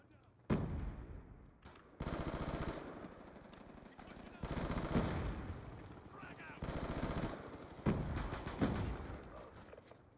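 Black Ops 2 video game gunfire: bursts of rapid automatic fire in several loud stretches, separated by brief pauses.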